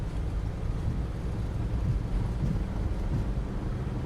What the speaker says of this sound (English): And those engine sounds are absolutely fantastic.